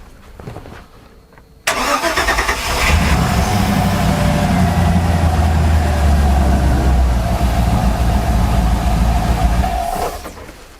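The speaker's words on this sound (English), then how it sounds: "we can turn on the engine" A vehicle engine cranks and catches after a compression test, then idles steadily for about eight seconds at a loud, close, even rumble before it cuts off near the end.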